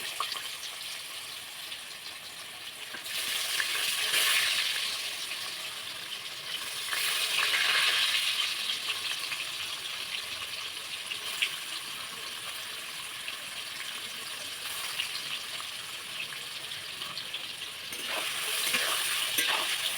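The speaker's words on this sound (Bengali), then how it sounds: "পনির কিন্তু বেশি পোড়া পোড়া কিন্তু ভালো লাগে না, হালকা হালকা লাল লাল করে ভাজা হবে।" Paneer frying in hot oil while being gently stirred, a continuous close sizzle that swells in waves of louder crackling every few seconds.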